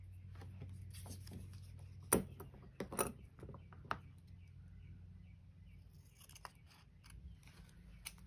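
Scissors cut freehand through card, giving a few faint, scattered snips and crunches over a low steady background hum.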